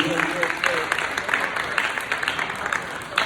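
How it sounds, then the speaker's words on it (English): An audience claps through a school leadership ceremony, steady applause that is dense and close, with voices mixed into the crowd noise throughout. "Can y'all give him another round of applause, please?"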